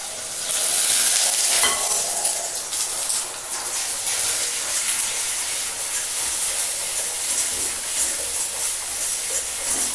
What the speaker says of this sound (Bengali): প্রথমে আমি ডিমটাকে আগে অমলেট করে দিচ্ছি।